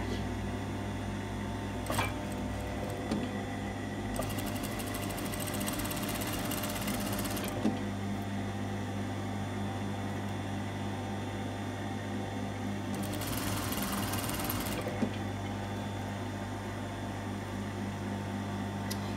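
A sewing machine stitches a seam on a woven dress, with a steady mechanical hum under two louder bursts of rapid stitching, close and fairly quiet, with no talking.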